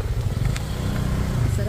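A motorcycle rides along a muddy trail near a waterfall, its engine putting out a steady low putter throughout the short stretch while someone talks over it.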